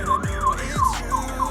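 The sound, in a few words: warning alarm at the Chuquicamata mine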